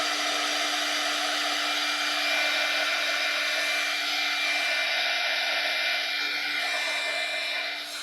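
A handheld heat or drying tool blows air over freshly applied craft ink, a steady, loud whoosh with a faint hum running unbroken and alone.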